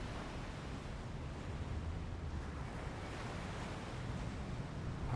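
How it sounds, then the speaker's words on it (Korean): Ocean waves wash onto a beach at night, a soft, continuous hiss of surf with gentle swells, steady and fairly distant. "밤에는 파도 소리가 더 잘 들리거든요"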